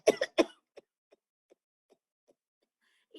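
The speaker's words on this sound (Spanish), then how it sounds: "Es una tos." A person coughs twice in quick succession, loud and close, followed by a string of faint, evenly spaced short breaths or soft coughs in a quiet room, demonstrating a pediatric chronic cough.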